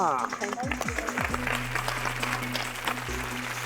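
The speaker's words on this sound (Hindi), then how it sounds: "तालियां।" A studio audience on a televised stage show claps steadily throughout. The applause is mixed under a voice and tonal music, and it stays at a moderate, even level.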